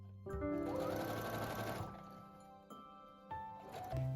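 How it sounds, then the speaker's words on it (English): A sewing machine runs steadily, stitching the seam of a fur tote bag, a close continuous whirring hum that slows and pauses briefly before starting again. "And sew all the way around it."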